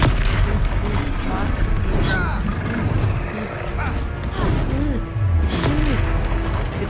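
Confringo blasting spell in the Hogwarts Legacy game, heard as booming explosions and crashing impacts in a dense, loud battle mix, with voices speaking amid the blasts.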